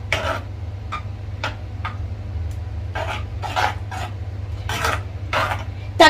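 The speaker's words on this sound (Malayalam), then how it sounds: "എല്ലാം കൂടി ഞാൻ ഇളക്കി യോജിപ്പിച്ച് കൊടുക്കുകയാണ്" A spoon stirs tomato paste into an ivy gourd (kovakkai) coconut curry in a pan, giving a series of short scrapes and clinks at an uneven pace over a steady low hum, with no talk.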